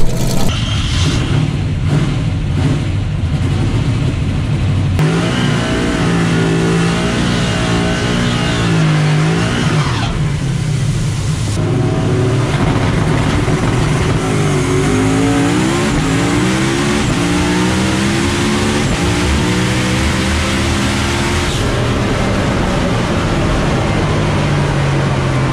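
A stick-shift drag race car launches and accelerates hard at a drag strip, a loud, continuous engine roar rising in pitch through gear changes with a brief break between shifts.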